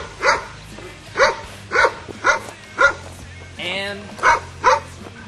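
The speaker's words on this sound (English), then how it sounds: "Annoying dog." A dog barks about seven times in a steady, evenly spaced run with one longer whining bark among them, loud and close, heard at an outdoor party campsite with a tent and fire ring.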